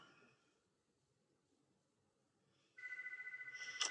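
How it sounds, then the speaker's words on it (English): A house telephone starts ringing after a quiet stretch, a bright, rapidly pulsing electronic trill that is faint but clear against near silence. "Answer that phone while we wait."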